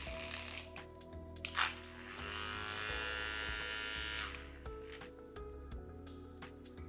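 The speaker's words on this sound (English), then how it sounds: "I'm gonna use my milk frother and just kind of make sure everything's all mixed up together" A handheld milk frother whirs steadily in a glass of salted caramel mocha, a faint, thin electric buzz lasting a few seconds amid light clinks and handling noises, with no talk.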